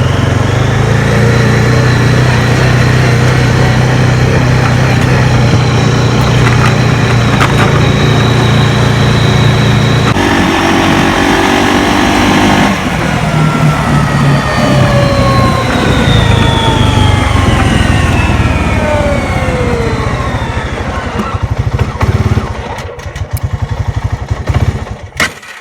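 Honda Rubicon 500 ATV engine running loudly up close while riding, a rough, throbbing drone that shifts pitch as the throttle changes, steady for most of the stretch before faltering and cutting out near the end.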